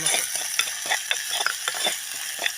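Sliced onions, curry leaves and green chillies fry in hot oil in a pan, giving a steady sizzle broken by repeated scraping and stirring strokes, close and clear with no talking.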